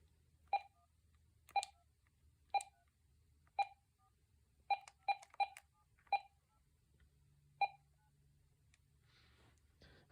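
A cordless phone dials a number, giving about nine short, evenly spaced keypad tones, some in quick pairs, clear and isolated against a faint background hum.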